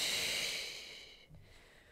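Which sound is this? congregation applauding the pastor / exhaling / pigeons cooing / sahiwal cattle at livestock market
exhaling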